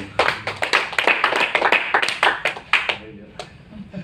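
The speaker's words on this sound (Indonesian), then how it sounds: "Tepuk tangan dulu dong." A burst of hand clapping from a small audience, quick and uneven, fading out after a few seconds.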